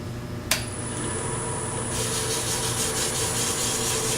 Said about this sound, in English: I can see white on the sandpaper, which means that I am sanding the CA